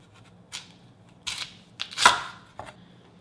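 Knife slicing black cod (sablefish) into pieces on a cutting board, heard as a handful of close, sharp cutting taps spread irregularly over a few seconds against a quiet background.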